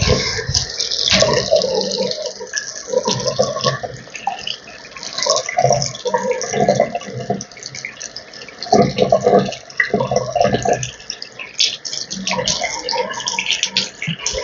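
Lukewarm water splashes and trickles from a tap while a dried homemade face mask is rinsed off the face, with uneven bursts of running water and wet rubbing sounds coming in irregular waves.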